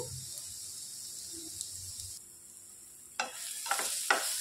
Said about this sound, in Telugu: ముక్కలన్నీ బాగా ఫ్రై చేసుకోవాలండి.